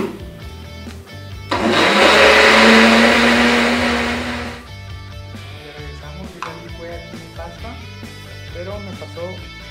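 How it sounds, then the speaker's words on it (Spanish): A kitchen blender whirs loudly for about three seconds as it mixes crepe batter with milk and butter, starting abruptly and cutting off, with music and a voice talking before and after. "Todo esto lo ponemos aquí en nuestra licuadora"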